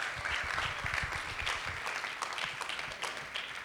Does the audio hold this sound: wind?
no